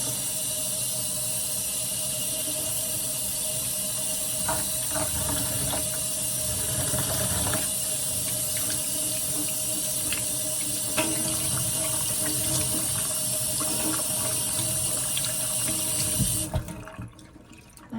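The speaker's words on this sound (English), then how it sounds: "I also want to wash as much of the product out as I can." Running water from a tap pours steadily in a sink while product is rinsed out of a doll's hair, a continuous loud hiss and splash that cuts off near the end.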